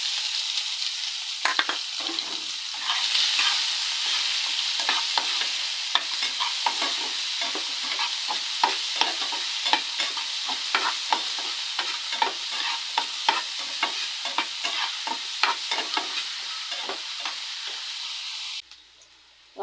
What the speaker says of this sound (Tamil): அது கூட நம்ம நறுக்கி வச்சுருக்கிற வெங்காயம் அதையும் போட்டுக்கலாம்.